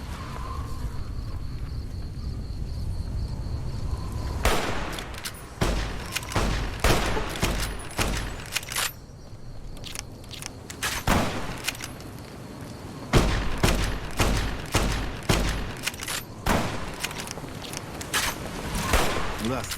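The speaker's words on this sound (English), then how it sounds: "echo of gunshots make it harder for Deathclaws to locate us" Rapid bursts of gunfire crack repeatedly with ringing echoes, loud and close, in clustered volleys with brief pauses between them.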